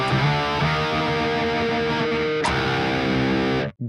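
Electric guitar driven by a Boss DS-1 distortion pedal into a Fortin Grind cab impulse response, giving a smooth, thick sustained chord that is struck again midway, loud and close without any voices.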